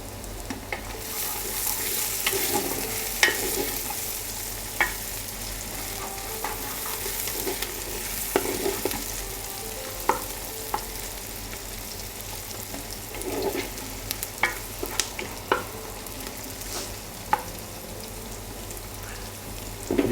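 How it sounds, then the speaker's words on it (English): Onions browning in oil for murgh pilau, with a loud, continuous sizzle and frying hiss close by, broken by occasional stirring clacks of a utensil against the pot. "The reason why we add the oil just to brown the onions."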